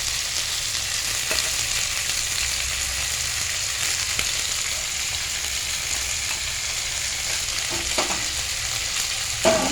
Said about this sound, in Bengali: ফুলকপি আলুগুলোকে ভাজা ভাজা করা হবে।